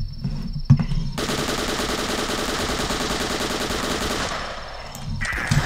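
Uzi submachine gun firing in the game The Last Stand, a loud rapid automatic burst lasting about four seconds between quieter game sounds.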